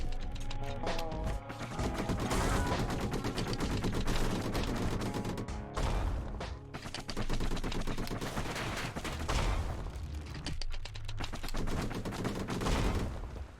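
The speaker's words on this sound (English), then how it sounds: "This mortar's pretty good." A mortar weapon in the Bastion video game fires in dense, rapid bursts of loud booming shots over a steady layer of game music, with a brief lull near the middle.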